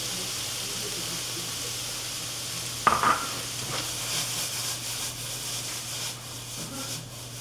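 Tomatoes drop into a hot pan with a sudden sharp clatter, then a steady hiss of sizzling and light scraping as they are stirred, with no talking.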